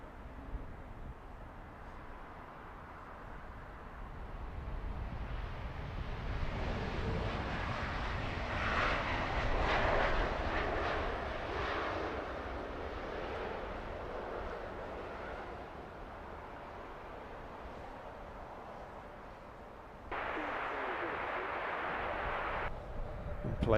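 A heavy airliner coming in to land at Heathrow Airport, its engine roar building and swelling to a broad, loud rumble near the middle before easing off, with a distant, steady background drone and faint talk.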